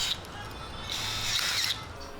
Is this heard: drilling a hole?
yes